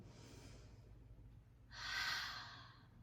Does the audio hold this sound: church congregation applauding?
no